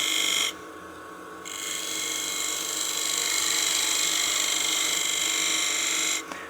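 A 3/8 spindle gouge cuts sycamore on a spinning wood lathe while turning a pot: a brief loud burst, a short quieter dip, then a sustained, steady hissing whine until it cuts off near the end.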